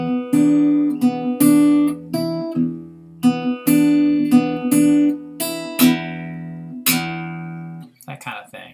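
An instrument plays a blues line in a swing rhythm. The notes are separate and clearly attacked, in an uneven long-short pattern, and the last few sound more ragged.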